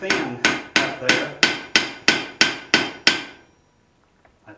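A hammer strikes hot iron on an anvil at a blacksmith's forge, nine loud ringing blows in a steady even rhythm, each decaying quickly, then quiet with a few faint taps.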